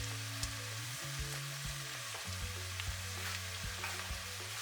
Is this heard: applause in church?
no